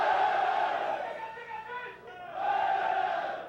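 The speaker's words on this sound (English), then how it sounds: "a huge crowd gathers for the completion of the southern tunnel" A huge crowd of workers roars and cheers at the completion of an undersea tunnel's southern bore as the last boring machine breaks through. The loud, echoing crowd dips briefly mid-clip, then swells again.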